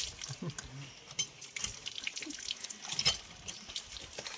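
Water trickles from an outdoor hand pump near a temple, a weak uneven flow with small splashes and faint background voices.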